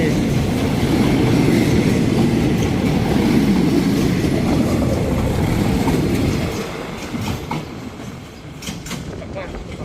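A Bangkok–Ban Takhli passenger train rolls past on a curve at Bang Sue, a loud close rumble of carriages and wheels that fades after a few seconds, leaving lighter rattles and clicks.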